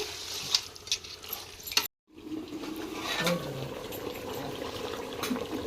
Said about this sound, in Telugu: ఉప్పు పసుపు కలిసేలాగైతే కలుపుకుందామండి